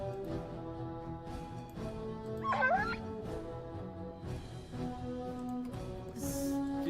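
A dog in the video game Dragon Age barks, yips and whimpers in short repeated bursts over steady game music, fairly close and moderately loud.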